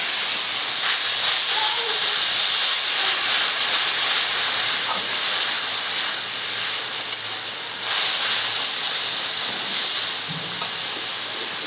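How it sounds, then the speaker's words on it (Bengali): Onion, ginger and garlic fry in hot oil for a Bengali fish curry, a loud continuous sizzling hiss that swells and dips in waves, with no talk over it. "পেঁয়াজ আদা রসুন খুব ভালো করে ভাজিয়ে নিচ্ছি পুরো লাল লাল করে"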